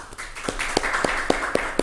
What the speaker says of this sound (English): please make big applause to Professor Ian